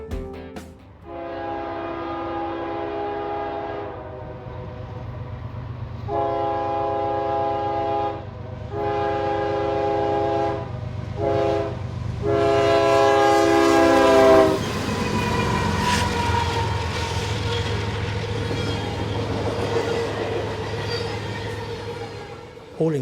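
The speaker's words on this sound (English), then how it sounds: "Hauling this eastbound train, the lead loco is a GE 4400 horsepower Evolution series built in 2005 with DC traction motors." An eastbound CSX freight train led by a 2005 GE Evolution series 4400-horsepower locomotive passing a rural Maryland road crossing, sounding a long series of loud horn blasts over a deep engine rumble before the roaring, clattering cars go by.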